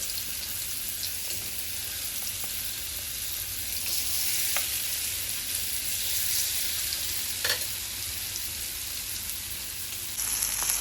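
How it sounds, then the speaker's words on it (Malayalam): Kerala-style fish slices fry in hot coconut oil over a medium flame, producing a constant crackling sizzle with a few faint clicks and small pops throughout. "എന്നിട്ട് 2 ഭാഗവും നന്നായിട്ട് മീഡിയം ഫ്ലെയിമിൽ പൊരിച്ചെടുക്കുക"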